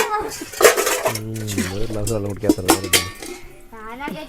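Dishes, pots and utensils clink together during washing in a home kitchen, with a few bright knocks and rattles near at hand, while voices talk over much of it.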